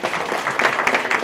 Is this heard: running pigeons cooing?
no